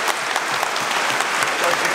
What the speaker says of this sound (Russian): Давайте друг другу аплодируем